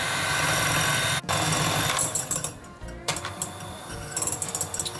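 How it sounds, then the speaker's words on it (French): Electric mixer whipping eggs for a Christmas Yule log sponge, a steady mechanical whir that runs continuously, briefly cuts out, then resumes with uneven rattling pulses. "j'ai commencé à monter les œufs"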